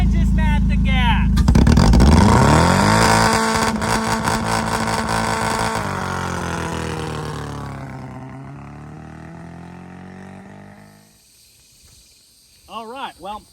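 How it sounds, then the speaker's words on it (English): A manual car in first gear runs through a hard burnout: the engine roars loud and rises in pitch, holds a high rev, then fades away. Brief chirps follow near the end. "Make sure she's in first, and then just mat the gas."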